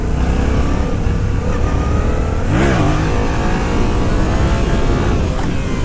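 A 2015 Yamaha FZ-07 motorcycle on a test ride, its engine loud and close under heavy wind rush, with a rising rev burst around the middle before settling back to steady cruising.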